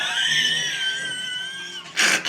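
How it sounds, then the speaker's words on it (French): A person screams in a loud, sustained, high-pitched cry at a crowded World Créole Music Festival in Dominica, ending in a brief sharper burst. "Pourquoi il crie?"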